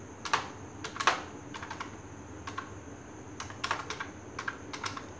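Close-up clicks of a computer keyboard as Arduino code is typed, coming in short irregular bursts of keystrokes with brief pauses over a quiet room background.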